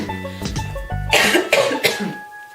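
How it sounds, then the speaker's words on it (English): A few harsh coughs in quick succession, close and loud, after a short hum of voice at the start. "Why do I always cough during these things?"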